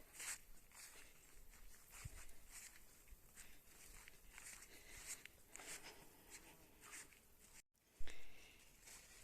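Quiet footsteps crunch and rustle through dry vegetation in a vegetable garden plot at a steady walking pace, close and soft, with a brief louder scuff near the end.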